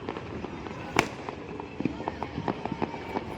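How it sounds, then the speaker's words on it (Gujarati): Firecrackers burst all around on Uttarayan night in Ahmedabad, a scattered run of sharp pops and cracks, some near and loud, others distant, with voices talking in the background. "અમારે જો ચારેય બાજુ ફટાકડા"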